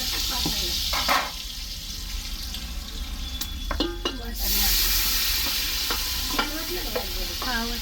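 Ground masala paste sizzling as it is stirred in a pan for a traditional mutton curry, a steady frying hiss with scraping spoon strokes and occasional clinks, moderately loud and close.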